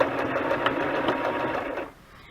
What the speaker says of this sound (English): I've really been waiting, you know, for my sewing machine to get here